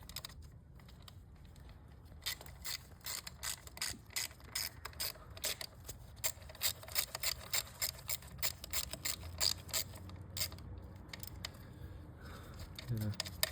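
Hand tool working loose a bolt on a BMW E36 engine during a spark plug and coil pack job, quick repeated ratcheting clicks in bursts that grow busier, close up, with a voice briefly heard.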